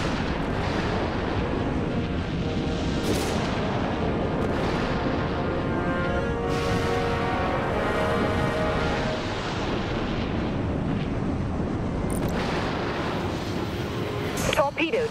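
An enemy command ship blowing up in the space combat game Dreadnought: a long, heavy rumbling blast amid continuous battle noise, with faint voice callouts mixed in.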